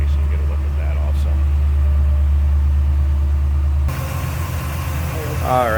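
Engine of a 1966 Chevrolet C10 pickup running at a steady idle, a loud low rumble that drops in level partway through while someone talks over it.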